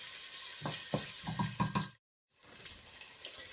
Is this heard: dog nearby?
no